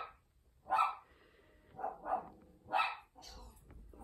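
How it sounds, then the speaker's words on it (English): A dog barks indoors, three separate bark bursts spaced about a second apart, moderately loud, with quiet room sound between them. "He's probably barking at a cat or a person outside."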